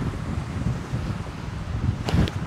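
A strong right-to-left headwind gusts across a disc golf course, loud continuous buffeting on the microphone with a brief rustling burst near the end and no voices.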